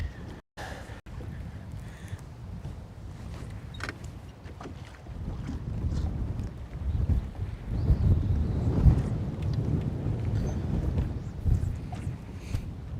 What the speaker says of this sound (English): I guess we picked the windiest. The windiest protected spot?